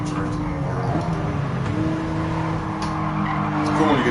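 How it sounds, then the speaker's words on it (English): A car drifting sideways through corners in the Gran Turismo Sport racing game, its engine droning steadily while tires squeal and skid continuously, with a slight rise toward the end. "Biggest kind of drifting in the world."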